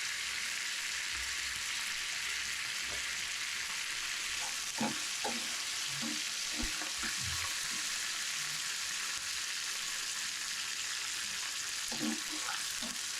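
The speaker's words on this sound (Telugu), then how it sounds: "ఆవాలు చిప్పటి వాడాక ఇంగువ వేస్తాను." Mustard seeds spluttering in hot oil as asafoetida goes in for a tempering, a steady broad sizzle with scattered small pops and crackles throughout, fairly close and moderately loud, with no talking.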